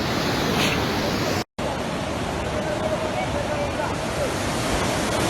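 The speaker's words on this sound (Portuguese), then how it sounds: "E essa é a pressão essa é a correnteza que a água está a circular." Floodwater current rushing through flooded streets in Luanda during heavy rain, where houses are fully inundated; a loud, steady broadband roar of flowing water, with a brief cut near the start.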